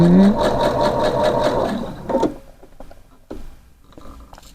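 A sewing machine stitching a rounded hem in fabric runs loud and close with a fast, even mechanical chatter, then stops; a few soft handling knocks and rustles of cloth follow in near silence.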